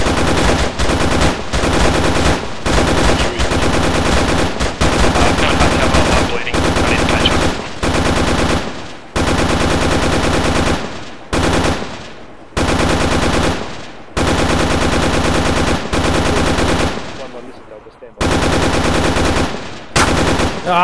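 Sustained bursts of automatic rifle and machine-gun fire in the ArmA III combat game, loud and near, rattling in long volleys separated by brief pauses.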